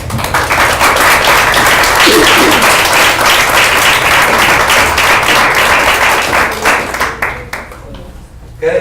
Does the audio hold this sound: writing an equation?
no